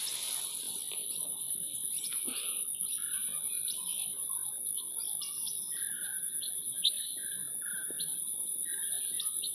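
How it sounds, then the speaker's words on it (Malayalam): Birds chirp and call in short repeated bursts over a steady high cricket-like insect drone beside ripe paddy fields close to harvest, with no talking. "നല്ല കിളികളുടെ ശബ്ദമൊക്കെ കേൾക്കുന്നുണ്ട്."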